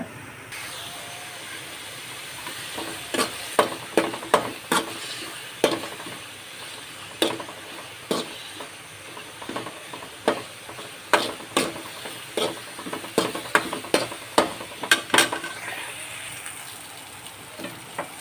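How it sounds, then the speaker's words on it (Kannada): Mustard and coriander seeds roast in hot coconut oil in a pan, a soft continuous sizzle with sharp, close pops and crackles coming in irregular clusters while they are stirred. "ಇದಕ್ಕೆ ಸ್ವಲ್ಪ ತೆಂಗಿನೆಣ್ಣೆ ಹಾಕ್ಕೊಂಡಿದ್ದೀನಿ. ಈಗ ಇದನ್ನು ನಾವು ಈಗ ಹುರ್ಕೊಳ್ಳೋಣ"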